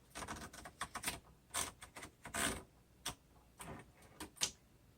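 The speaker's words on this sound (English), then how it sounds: "I'm going to do a typing demo for this particular model so that you can see how well this one works" Keys striking on a 1962 Royal Signet manual typewriter, a quick run of sharp mechanical clacks in uneven bursts with brief pauses, close and fairly loud with no voices.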